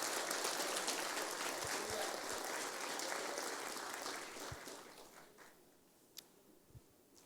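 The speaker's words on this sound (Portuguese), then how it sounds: "Vamos aplaudir o Senhor," A church congregation applauding during a sermon, steady broadband clapping from many people, faint and somewhat distant, fading out over several seconds with a few isolated knocks at the end.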